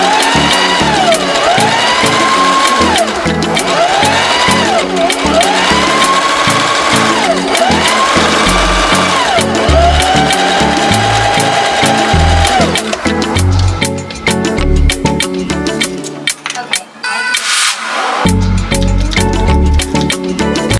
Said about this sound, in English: we're going to sew these shoulder seams down at a 5/8 of an inch seam allowance with a zigzag stretch stitch